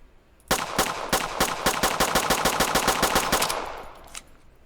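A pistol in the video game Road to Vostok fires a rapid string of about twenty sharp, evenly spaced shots, loud and close, then a brief pause and one final shot.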